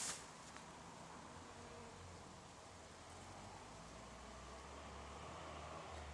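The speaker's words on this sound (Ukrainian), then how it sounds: "Ось так на кладіанті працюють бджоли середина серпня." Bees work on red cucumber (thladiantha) flowers in mid-August, buzzing in a steady, faint hum outdoors, a soft continuous drone of insects with low background noise and no talking.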